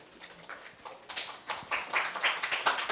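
Audience applause for a middle school student's speech at a youth speaking festival, a scattered clapping crowd building from sparse claps into a denser, steady round in a hall.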